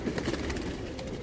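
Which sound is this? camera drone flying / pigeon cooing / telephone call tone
pigeon cooing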